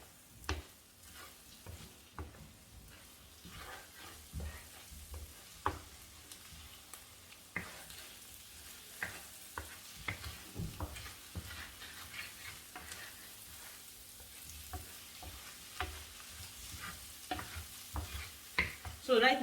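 Rice being stirred and fried in a pan for Asian fried rice, with irregular scraping and stirring strokes over a steady low sizzle, close and fairly quiet, no talking.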